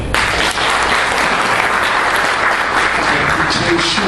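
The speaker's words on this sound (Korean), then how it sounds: "우리 여기 계신 이효지동님 박수 한번 주십시오." An audience at an annual general meeting and year-end party applauds, a loud, continuous wash of clapping from many hands that holds steady throughout.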